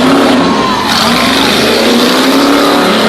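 A loud 350 engine drones at high revs through a mud pit, the pitch climbing steadily with a harsh, continuous roar close by.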